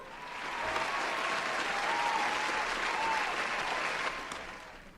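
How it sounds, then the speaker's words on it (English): A round of applause from a studio audience on a talk show swells in, holds steady and dense for several seconds, then fades, with a faint voice faintly audible underneath. "Immediate round of applause for me."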